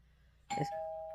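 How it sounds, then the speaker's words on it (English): A single doorbell chime rings out clearly, its tone lingering and sustaining after the strike in an otherwise quiet room. "somebody ringing the doorbell"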